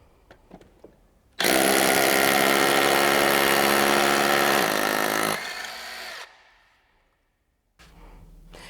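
An 18-volt DeWalt DCH253 SDS Plus cordless rotary hammer starts with a few clicks, then drills loudly and steadily for about four seconds, changes pitch as it eases off, winds down and stops, with a brief handling noise afterward.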